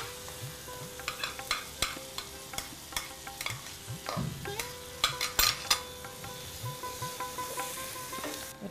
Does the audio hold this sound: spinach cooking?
yes